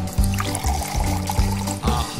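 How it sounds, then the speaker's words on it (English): Olive oil trickled into homemade pasta dough, a close glugging pour in short repeated pulses, fairly loud and without voices. "A little bit of oil."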